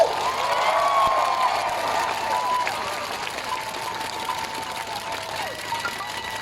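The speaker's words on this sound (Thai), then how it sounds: "ขอเสียง ปรบมือให้พี่น้องทุกคนที่นั่งอยู่ตรงนี้" Audience at a political rally at Ratchaprasong intersection in Bangkok claps steadily and loudly for several seconds, a dense wash of applause with some crowd noise mixed in.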